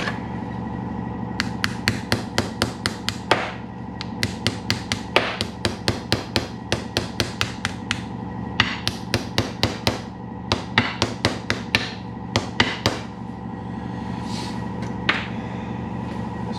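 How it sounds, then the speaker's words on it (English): Rapid metallic hammer taps on a New Holland 1412 discbine cutter bar module during seal replacement, coming in quick bursts of close, sharp strikes with short pauses between runs. "Where's my little hammer?"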